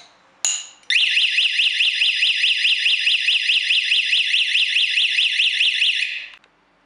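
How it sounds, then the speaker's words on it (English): A Satel home security system sounds an alarm triggered by a glass break detector: a brief beep, then a loud, steady electronic siren pulsing in rapid regular bursts for about five seconds before cutting off. "Now we can see how the glass break detector will give us an alarm."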